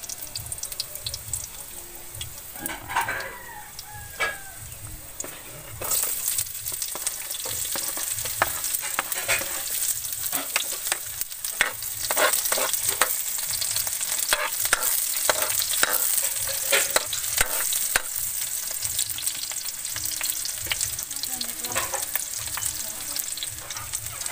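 Garlic sizzles in a pan with oil while a spoon scrapes and stirs it in repeated clattering strokes, and a steady frying hiss runs beneath them.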